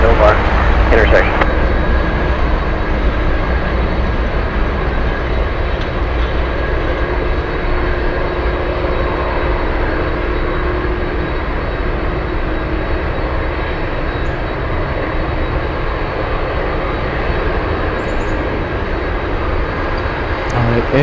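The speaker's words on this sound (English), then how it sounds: "we have this one starting up its engines" An airliner at Anchorage airport spools up its jet engines, a sustained rumbling whine with a faint steady tone running throughout; a voice talks briefly over it.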